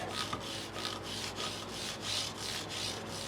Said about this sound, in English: I have one of those StewMac microfiber pads, and I'm just hitting the side of the frets here